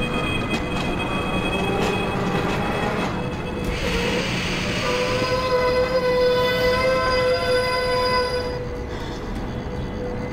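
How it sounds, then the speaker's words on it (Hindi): Train in Microsoft Train Simulator slowing to a halt at a red signal, a steady rolling rumble with rising squeals and tonal whines of braking wheels, loud and continuous throughout. "चलो ट्रेन तो हमारी रुक चुकी है"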